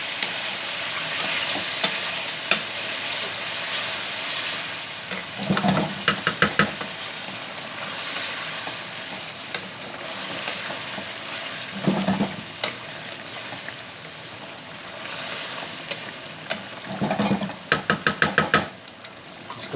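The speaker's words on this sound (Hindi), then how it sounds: "इसको थोड़ा सा भून लेंगे" Chicken being fried and stirred in a pot with ground onion, tomato and green chili, a steady loud sizzle broken by several bursts of spoon scraping and stirring.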